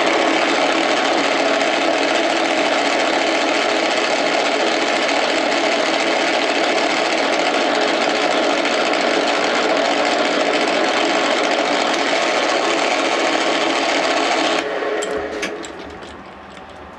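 A metal lathe cuts a copper round bar, giving a loud, steady machining whine and rumble that holds constantly for about fifteen seconds before the cut ends and the sound drops away with a few faint clicks.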